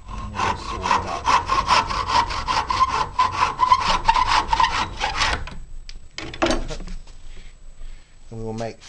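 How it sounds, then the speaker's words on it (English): A hand saw cuts through plywood in quick, rhythmic back-and-forth strokes, loud and close for about five seconds, followed by a few scattered knocks and wooden clatter. "Then we get our saw again, and then we saw it up."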